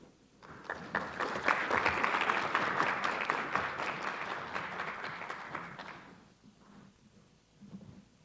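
A symposium audience applauds to welcome a speaker, steady dense clapping that swells quickly, holds for several seconds, then fades out, with the room going quiet afterwards.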